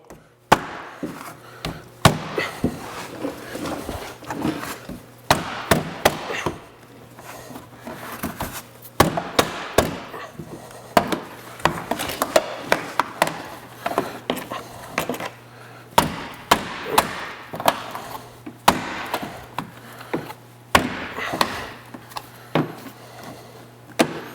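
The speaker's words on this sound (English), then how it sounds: "get a little angle on it, and then just kind of tap it around like so" A Bizon fender flare being tapped loose from a 2014 Ford F150, producing irregular bursts of sharp knocks and clunks on plastic and metal, close and fairly loud, with short pauses between clusters and a faint steady hum underneath.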